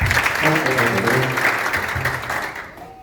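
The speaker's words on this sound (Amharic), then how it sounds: "አጨብጭቡ" Wedding guests applaud at a marriage vow ceremony, a dense, steady clapping from a crowd that fades out toward the end, with some voices mixed in.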